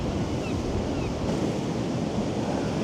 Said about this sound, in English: what a great sort of view that is of the sea crashing on the stairs